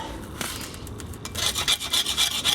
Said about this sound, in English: I'll just clean this up a little bit with a wire brush and